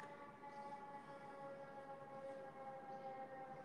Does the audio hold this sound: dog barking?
no